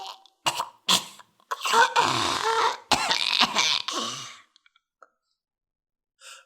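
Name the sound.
coughing fit, performed by the story's narrator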